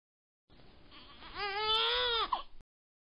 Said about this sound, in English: Cry.